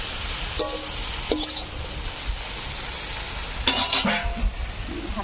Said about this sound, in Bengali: এবার আমি পুঁই শাকটা দিয়ে দেবো, পেঁয়াজ দিয়ে দিচ্ছি, ভালো করে নেড়ে চেড়ে নেবো।